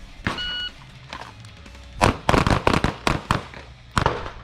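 Pistol shots ring out at a shooting range during a defensive pistol drill: a shot-timer buzzer beep opens, followed by a string of sharp, loud reports in quick bursts, several closely spaced, with a last shot after a pause.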